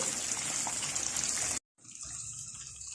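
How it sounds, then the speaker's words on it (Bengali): A splash of water poured into ground spice paste frying in oil for a mixed vegetable dish, giving a loud steady sizzling hiss that cuts off briefly, then resumes slightly softer. "এখন আমি এটার মধ্যে সামান্য একটু পানি দিচ্ছি, যেন বাটা মশলাগুলো তেলের মধ্যে ছিটে না আসে।"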